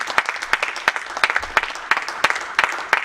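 A church congregation claps together in a brisk, uneven burst of applause, sharp individual claps standing out against the crowd, loud and close with no speech over it.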